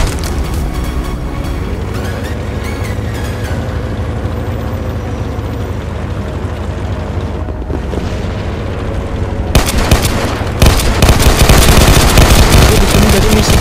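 Gunfire and explosions in an Android open-world offline game resembling GTA San Andreas: a steady loud rumble of shooting, then a sudden heavier blast that stays dense and booming to the end.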